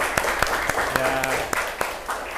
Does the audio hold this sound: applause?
yes